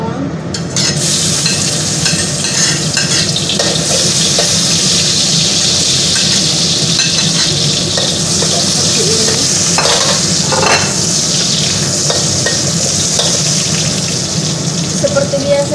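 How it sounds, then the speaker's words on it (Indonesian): Onion sizzles loudly in a hot pan while it is stirred, with continuous frying crackle and scraping of the utensil throughout, close up and without pause. "setelah udah panas, masukkan bawang"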